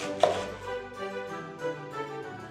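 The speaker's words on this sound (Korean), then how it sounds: "이제 양배추도 썰겠습니다." A knife cuts through half a cabbage on a cutting board, giving a few scattered chopping knocks, the sharpest near the start, over a steady tonal background.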